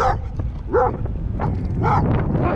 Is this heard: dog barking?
yes